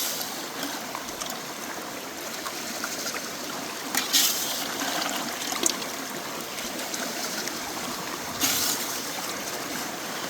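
Swift stream water rushes and trickles steadily at a gold prospecting site on glacial till, with a few brief splashes breaking through the flowing background.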